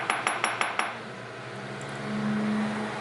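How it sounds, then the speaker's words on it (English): A small hammer taps the edges of a watch bracelet link tube five times in a quick, even rhythm, bright metallic clinks up close, followed by quiet workshop background with a low hum. "What I want to do is hammer just the edges so that I'm tightening up that tube inside as much as possible."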